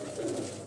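Pigeon coo on a rooftop loft, one short low throaty call heard close and clear.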